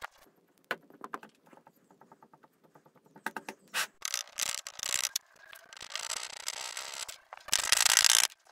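Sand being rammed into a mold to prepare a bronze casting: a string of dull thuds and scraping packs that starts soft and grows louder and busier toward the end, with no voices.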